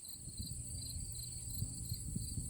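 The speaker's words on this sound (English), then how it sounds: "Listen to those bugs. Nothing like the crickets." Faint crickets trill steadily in the distance, a continuous high chirping over a soft outdoor rumble.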